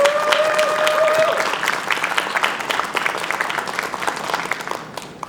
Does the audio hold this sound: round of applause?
yes